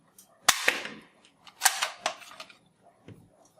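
A toy gun fires soft ball bullets in two or three sharp pops, each followed by light rattling and bouncing, close and fairly loud, with quiet gaps between shots and no voices.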